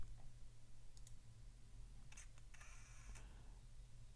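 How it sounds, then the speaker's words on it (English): Camera shutter clicks sound in a beat: a few crisp, quick clicks in short bursts over a quiet low bass hum. "It's like a camera flash. I added that little piece in there, so that's how you get that clicking."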